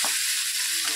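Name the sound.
stirring and sautéing eggplant bharit mixture in a pan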